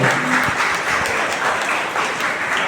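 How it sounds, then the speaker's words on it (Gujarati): An audience at a Mahatma Gandhi thought-series program gives a steady round of applause after a short performance, a dense continuous clapping that holds evenly for a few seconds. "એકવાર તાળીઓના ગણરાતે એનો ઉત્સાહ તો વધારો છે"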